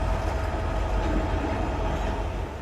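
An HO scale model freight train, PD9, runs along the track with a steady rumbling roll and faint clicking of wheels, continuous and close throughout.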